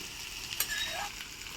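Fried coconut pieces are tipped into chicken varatti sizzling in a pan, giving a steady close-up frying hiss with a brief clatter as they drop in.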